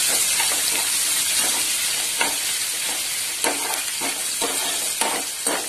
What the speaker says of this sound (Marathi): त्याला आता आपण गुलाबी होईपर्यंत फ्राय करायचं व्यवस्थित